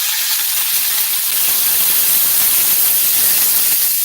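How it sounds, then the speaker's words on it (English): Seasonings for a Jamaican tinned-mackerel dish sauté in hot oil, giving a steady, loud, close hiss of sizzling that holds evenly throughout, with no talking. "so I'm sauteing my seasoning"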